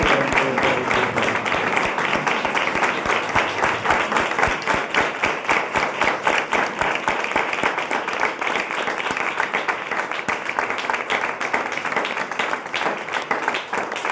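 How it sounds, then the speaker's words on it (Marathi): A church congregation stands and applauds its pastors, sustained, loud clapping from many hands that settles into a steady rhythmic beat and carries on throughout. "we should stand on our feet and we should clap for them for their faithfulness"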